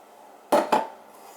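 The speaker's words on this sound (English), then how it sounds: "Alright, so put the cauliflower in there." Cauliflower dropped into a crockpot, giving two quick close clattering knocks against the pot, loud and distinct over quiet surroundings.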